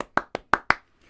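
Five sparse, separate handclaps from a small audience at a comedy show, near and crisp with short gaps, then quiet.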